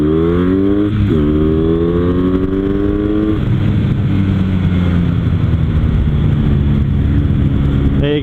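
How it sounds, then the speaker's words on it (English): Kawasaki W800 cafe racer motorcycle rolling slowly in first gear, its close engine note climbing in pitch and dropping back as the throttle is worked, with steady wind rush over the rider's microphone. "So we're in first gear, just crawling along, barely doing 20."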